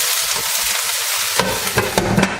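Endives sizzle steadily in a sauté pan, first a quiet even frying hiss, then a utensil scrapes and stirs them with several distinct clinks and scrapes over the continuing sizzle.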